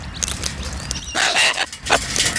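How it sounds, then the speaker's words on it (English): A bird gives loud, harsh squawks close by, two or three raspy bursts over faint background noise. "Yeah, you're a squawky bird."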